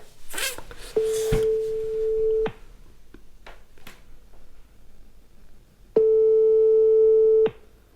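A telephone line gives two long, steady ringback tones about a second and a half each, separated by a gap with faint clicks, heard alone and fairly clear during a cold sales call being redialed.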